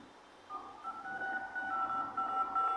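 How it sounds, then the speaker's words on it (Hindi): Dial pad keys are pressed on a Redmi K50i phone, giving a quick series of short two-tone beeps after a brief quiet start, moderately loud against faint room noise, with no speech. "आई फोन आपको चेक कराए थे डायल पैड साउंड हमारा ऑन हुआ है।"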